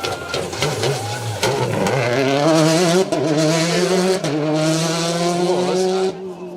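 A rally car screams along an asphalt stage at Rali Ceredigion, its engine note climbing through gear changes with brief lifts and tyre scrabble, loud and close for most of the pass before fading at the end.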